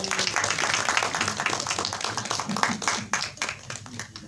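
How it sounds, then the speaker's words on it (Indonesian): Audience clapping at a film cast announcement press conference, a dense round of applause from a crowd that carries throughout and thins slightly toward the end. "Tepuk tangan yang meriah"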